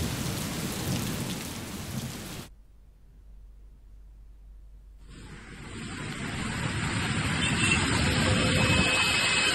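A heavy nighttime downpour hammers down as a dense, steady hiss of rain on surfaces, cutting out briefly to near silence midway before returning even louder and fuller.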